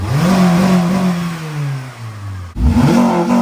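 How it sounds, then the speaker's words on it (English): A loud, close Acura RSX Type-S engine with a short ram cold air intake revs up and winds down in a long sweep, then a second quick rev surges right after, with a throaty intake roar. "Now we're gonna fire this thing up. Hear how it sounds?"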